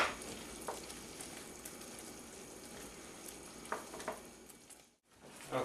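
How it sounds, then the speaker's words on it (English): Praline sugar mixture bubbling and sizzling in a pot on the stove as it is stirred, a steady quiet hiss with a few soft scraping clicks and a brief drop near the end. "So just keep cooking it. Stir this all together."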